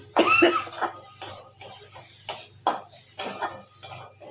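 Ginger-garlic paste stirred into frying eggplant in a pan, with a spoon scraping and clinking against the metal in a steady run of short strokes over a faint sizzle, close by. A brief cough sounds near the start.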